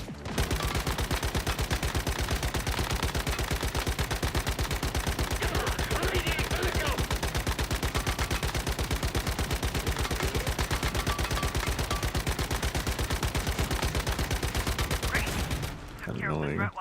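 Sustained rapid automatic gunfire from the video game Once Human, loud and continuous with dense bursts stacking over each other, cutting out abruptly near the end.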